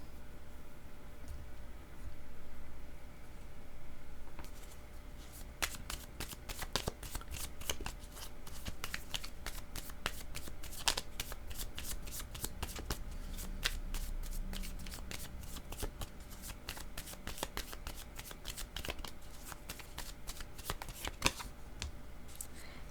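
A deck of cards is shuffled repeatedly close by, with rapid riffling bursts and soft flicks over a faint background hiss and no talking.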